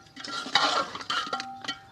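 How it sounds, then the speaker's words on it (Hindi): Masala being stirred and mixed into mutton in a pot for a degi-style dhaba dish, with scraping, clattering bursts of spoon against metal and a few brief ringing tones, close and fairly loud. "मसाला डाल के इसे मिक्स कर लेना है।"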